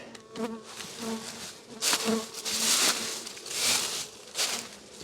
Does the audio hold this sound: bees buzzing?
yes